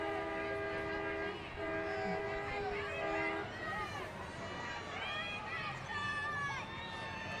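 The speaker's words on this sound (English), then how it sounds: "I heard about the train." At the Morristown Christmas parade, a Polar Express train float sounds a sustained multi-tone horn over crowd chatter and rumbling, followed by people talking excitedly nearby.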